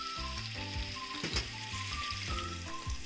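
Freshly chopped garlic sizzles in hot ghee in a pan for mutton nihari, a soft, steady frying crackle beneath background music.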